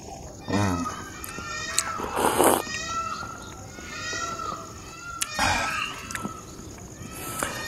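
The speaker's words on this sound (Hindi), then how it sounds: "पीछे आप मोर के बात सुन रहे हो अभी।" Several loud, nasal wailing calls of a peacock ring out at intervals, fairly close, over a quiet outdoor background with faint other sounds, on a village morning near a rooftop.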